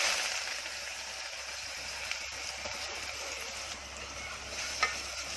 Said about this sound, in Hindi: इसको आप गोल्डन कलर आने तक भूनूंगी प्याज को